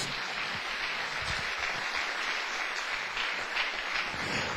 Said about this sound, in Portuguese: Uma salva de palmas para o Senhor Jesus